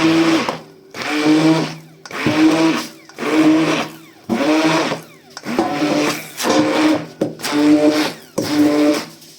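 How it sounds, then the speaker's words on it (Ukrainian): A blender blending cottage cheese whirs in repeated bursts of about a second each, roughly nine pulses with short pauses between, loud and close. "Перебиваю їм блендером."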